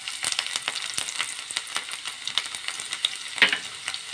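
Garlic dropped into hot mustard oil on a low flame for a spinach and potato dish, giving a steady, close, dense crackling sizzle with no talking.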